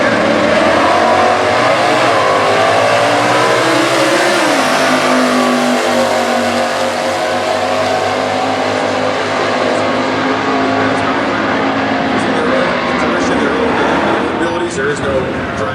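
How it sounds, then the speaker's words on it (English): 1967 Camaro E-Stock drag race car at the US Nationals stock eliminator qualifying, a loud engine revving and accelerating hard, pitch climbing and shifting through gears, close and dominant with an announcer talking over it. "the 67 Camaro E-Stock out there"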